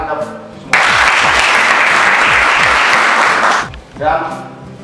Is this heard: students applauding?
yes